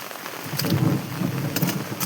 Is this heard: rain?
yes